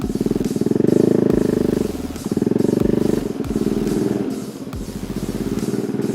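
A 2017 Yamaha Aerox 155 VVA scooter pulls hard under throttle, its engine droning loud and close in steady surges with brief dips between pulls.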